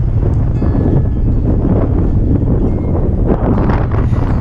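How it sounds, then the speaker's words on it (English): Strong wind roars continuously across the microphone on a Scottish mountain hike, a dense, steady buffeting rumble with no pauses. "the wind really started to pick up"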